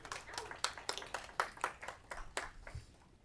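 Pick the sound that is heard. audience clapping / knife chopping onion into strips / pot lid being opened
audience clapping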